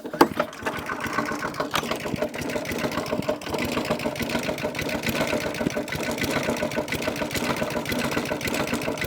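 A Flymo hover mower's small petrol engine runs with a rapid, buzzing, rattling clatter at a steady low speed, failing to rev up, loud and close throughout.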